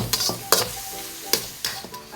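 Finely sliced chicken and vegetables with ginger, cooked for restaurant-style chow mein, sauté in a hot pan: a steady sizzle broken by several sharp scrapes and clatters of a spatula stirring, close and loud.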